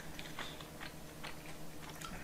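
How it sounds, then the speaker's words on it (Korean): Someone eats spicy tteokbokki with rice, with a few soft, close bites and chewing sounds scattered across a quiet room tone and no talking. "먹겠습니다"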